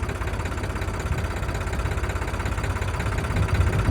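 A tractor engine labours steadily in a waterlogged field, a loud, continuous low rumble and throb with no pauses, growing slightly heavier toward the end.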